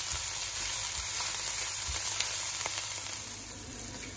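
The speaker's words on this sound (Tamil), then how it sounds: "இப்ப பாருங்க பச்சை மணம் போற அளவுக்கு நல்லா வதங்கி வந்துட்டது" Fresh mint and coriander leaves fry over high heat in a pan for chicken biryani, giving a steady, dense sizzle with faint stirring scrapes, close and continuous with no talk.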